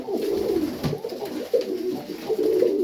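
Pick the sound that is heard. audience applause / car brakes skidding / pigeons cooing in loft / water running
pigeons cooing in loft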